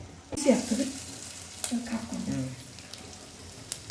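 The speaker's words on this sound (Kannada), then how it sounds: "ಕರಿಬೇವು, ಹಿಂಗು, ಸಾಸಿವೆ ಕಾಳು ಇವು 3 ಐಟಮು ಇದರಲ್ಲಿ ಹಾಕಿ ಎಣ್ಣೆ ಜೊತೆ ಹಾಕಿ ಇನಿಷಿಯಲ್ ಸ್ಟೇಜ್ ಏನದೆ ಒಗ್ಗರಣೆ ಮಾಡೋದು ಸ್ಟಾರ್ಟ್ ಆಗೋದು ಈಗ." Curry leaves, asafoetida and mustard seeds hit hot oil for a sambar tempering, a soft close sizzle with crackles and a sharp pop, while a voice talks briefly over it near the start.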